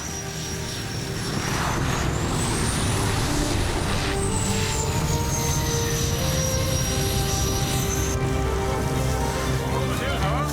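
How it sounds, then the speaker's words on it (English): A bush plane lands on snow in a frozen northern setting, its engine droning loudly and continuously with a rising and falling whine and rumbling skids, close by throughout. "That was the first time I see a plane landing on snow."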